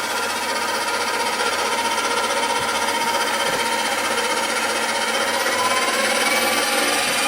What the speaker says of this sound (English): And you want to use the whisk portion of your KitchenAid if you have a KitchenAid.